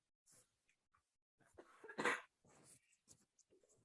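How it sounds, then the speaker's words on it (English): A few short, sharp coughs in a quiet room, one louder burst in the middle, followed by softer breathy sounds. "Coughing."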